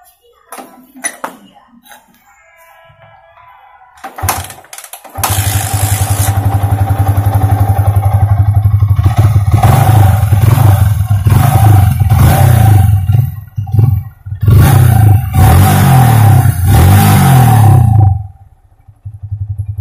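A Yamaha Vixion New motorcycle with a throttle fault is started after a few faint clinks, then idles loudly and revs repeatedly in close, rising and falling bursts before cutting off near the end.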